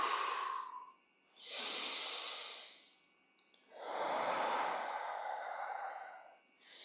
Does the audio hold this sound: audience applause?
no